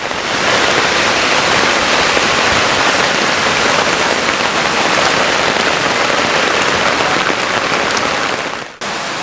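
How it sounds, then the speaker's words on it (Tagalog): Coin-sized hailstones pelt down over Burnham Park amid a storm that flooded Lake Drive, a dense, loud, continuous hiss and patter of ice striking surfaces, steady throughout with a brief dip near the end. "nagsimula nang mahulog ang kasing-laki ng piso ng mga yelo mula sa kalangitan"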